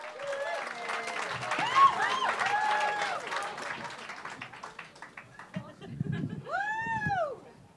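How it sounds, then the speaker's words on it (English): Comedy club crowd at Hot Water Comedy Club clapping and cheering as a comedian is introduced, loud mixed applause and whoops that thin out, followed by a high rising cheer or voice near the end. "keep that clap going. Clap more, and cheer"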